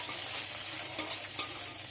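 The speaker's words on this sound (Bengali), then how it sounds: "সব কিছুর সঙ্গে নারকেল আর কিশমিশটাকে একটু ভেজে নিতে হবে।" Coconut and raisins frying with spices in oil alongside chana dal, a continuous close sizzle broken by a few sharper spatters and stirring scrapes, no speech.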